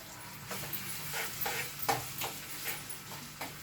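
Grated raw mango fries in a pan for mango pulihora, a soft sizzle running under repeated stirring scrapes and light clicks, close and fairly quiet with no talking.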